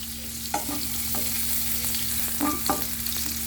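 Chopped onions sizzle steadily in a pan for a cottage pie, with a few soft scrapes of a spoon stirring them; close and fairly quiet, no talking.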